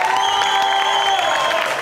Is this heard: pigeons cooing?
no